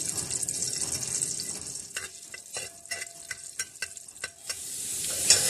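Soft, steady sizzle of chopped garlic frying in oil, with light scraping and tapping of a utensil stirring the pan, close by.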